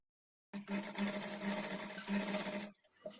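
A sewing machine stitches a kids' lehenga, starting abruptly after silence and running in a fast, steady mechanical whir with a rhythmic thump, then stopping with a few soft clicks.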